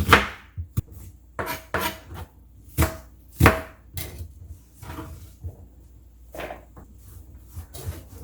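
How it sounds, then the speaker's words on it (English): A knife chops onion on a wooden cutting board in a series of uneven, crisp knocks, some sharp and loud, others lighter, with short pauses between strokes. "I don't cut them all the way through. You know, I barely hit the board"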